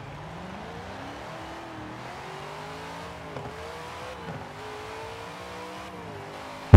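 A race car in Forza Horizon 4 roars through a festival sprint, its engine climbing and dropping through gear shifts with steady revving, loud and close, no voices.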